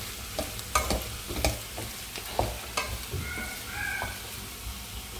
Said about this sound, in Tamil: இப்போ நம்ம கோவக்காய் போட்டுக்கலாம்.